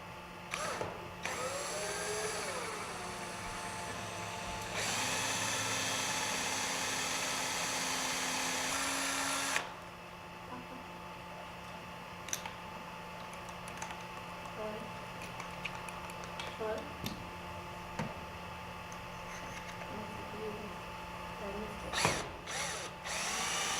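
A power drill with a 3/16 inch bit boring through a helicopter's landing gear shoe and skid tube, a steady whine that changes pitch partway, then lighter clicks and handling noises.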